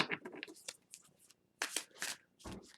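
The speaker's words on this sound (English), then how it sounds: "Anyways, I was shuffling." A tarot deck being shuffled by hand, giving soft, close papery riffles and crunchy card slaps in short irregular bursts with pauses between them, in a quiet room.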